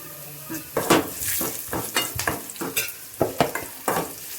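Turmeric, red chili and green chili frying in a pan, stirred with a utensil that scrapes and taps in a quick, irregular rhythm over a low sizzle, close and fairly loud.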